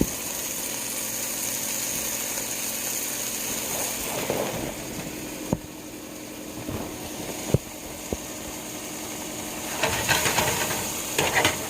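A hamburger patty cooks with a steady, soft sizzle and hiss, punctuated by a few sharp pops and crackles, continuous and close with no talking.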